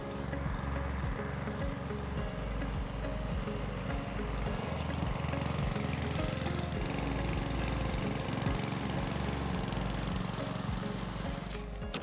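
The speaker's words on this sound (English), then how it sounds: "So here we have 2 really good mowers here, 18-inch cut" A Cobra petrol lawn mower engine with 18-inch cut running steadily, a loud continuous rattling drone with a fast chugging pulse, close by and unbroken throughout.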